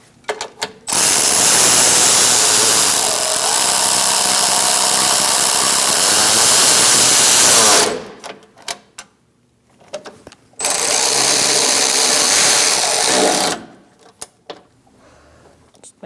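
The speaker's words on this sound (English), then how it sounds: "Let's tighten those down using a 10 millimeter." A power tool with a 10 millimeter socket drives bolts tight on a 2006-2011 Chevrolet HHR AC condenser and receiver drier assembly, running in two long loud bursts with a pause and faint handling noises between them.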